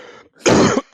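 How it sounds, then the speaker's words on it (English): A single sharp cough with a throat-clearing quality bursts out once, close and loud, in a podcast setting, preceded by a brief quieter rasp. "You keep coughing."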